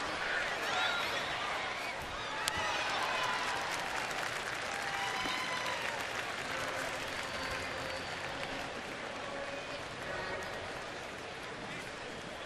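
A big daytime baseball crowd at Petco Park in San Diego, Phillies visiting the Padres, keeps up a continuous roar of applause and cheering, with a commentator talking over it.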